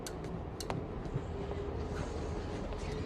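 A train from the 1998 film Blade rolls past with a steady, dense rumble and hiss of rail noise that stays loud and close, with a few sharp clanks near the start and no talking.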